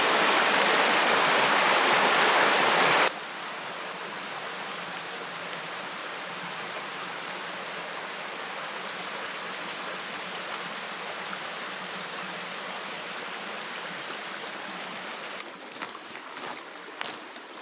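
Rushing stream water on a hiking trail near the Eagle Rock Loop, a broad steady wash that is very loud and close at first, then drops to a softer constant flow, with scattered splashes and knocks near the end.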